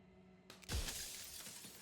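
Glass cracking and then shattering into shards in the video game Slay the Princess, a sudden loud crash that rings out and scatters for about a second with no voices.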